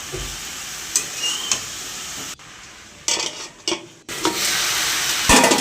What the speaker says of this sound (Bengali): এরকমভাবেই আনাজটা বেশ ভালোভাবে কষিয়ে নেবো।